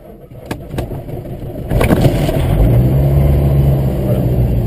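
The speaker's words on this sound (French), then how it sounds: "la seule action que je vais avoir à faire, c'est de mettre le contact moteur sur on" A light aircraft engine being switched on, with a few clicks and low rumbling before the engine catches and settles into a steady, loud running drone with a constant low hum.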